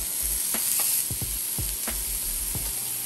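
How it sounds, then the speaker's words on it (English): Quarter-pound Wagyu beef patties sizzle steadily in a cast iron pan, a dense close frying hiss broken by a few sharp clicks and taps. "Let's go ahead and get these quarter pound Wagyu beef in here."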